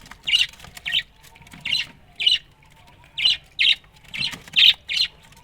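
Pet birds squawk in a series of about nine sharp, shrill bursts at feeding time, loud and close, grouped in irregular pairs and clusters with short quiet gaps between them.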